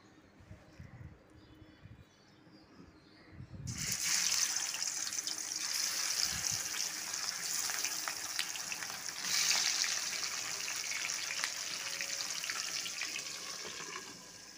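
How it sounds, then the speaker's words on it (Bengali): Fish frying in hot mustard oil in a kadai gives a steady, loud hiss that starts abruptly and then holds, close and continuous, with no talk over it. "কড়াইতে সর্ষের তেল গরম হয়ে গেছে, দিয়ে দিলাম সামান্য নুন। এবার মাছ ভেজে নেব।"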